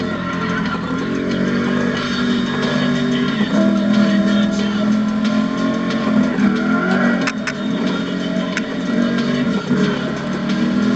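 A McLaren SLR supercar driven at high speed, its engine giving a loud, continuous roar with steady rising and falling tone throughout.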